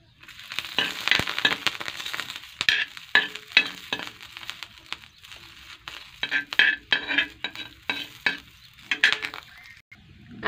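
Green chillies roasting in a little oil with garlic and coriander in a pan, uneven bursts of scraping, stirring and crackling that rise and fall close up, with no talking.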